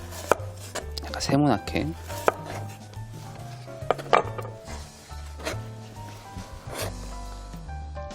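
Squid with the skin on being cut on a cutting board for a dumpling hot pot, irregular knife taps on the board under quiet Korean talk in a kitchen.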